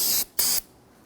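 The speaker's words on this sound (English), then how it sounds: "We're going to spray this down with some solvent to clean this up first." Two short bursts of aerosol solvent spray hissing close up while cleaning Nissan Frontier brake parts, the second slightly longer, then quiet.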